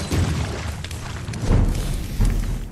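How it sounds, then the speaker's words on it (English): In a video game, an explosive jar detonates with deep, rumbling booms, heavy low thuds recurring a few times amid crackling debris. "Use an explosive."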